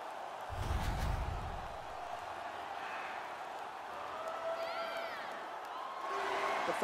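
Arena crowd in an NHL 18 hockey game rising into a steady roar of cheering and whoops, broad and continuous at moderate distance, swelling again near the end.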